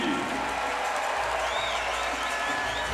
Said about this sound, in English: we got the round of applause there